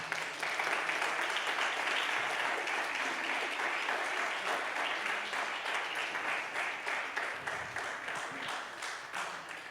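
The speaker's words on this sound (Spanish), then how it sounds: "Dale un fuerte aplauso al Señor Jesús." A church congregation gives a loud, sustained round of applause during a Spanish-language worship service, with dense clapping that holds steady for about ten seconds and fades slightly toward the end.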